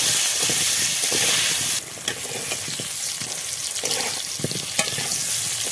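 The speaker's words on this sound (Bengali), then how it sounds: "এখন আলুটা ভেজে নেব তেল একটু সামান্য হলুদ লবণ দিয়ে আলুগুলো ভেজে নেব" Potatoes fry in a little oil with turmeric and salt, a steady close sizzle and hiss with occasional stirring scrapes, louder at first and then settling slightly quieter.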